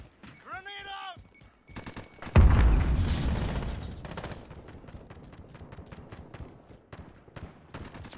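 A grenade blast in the Call of Duty: Modern Warfare shooter erupts as one loud, booming explosion after a short radio-style voice and chirping effects, then rumbles and crackles away under scattered gunfire.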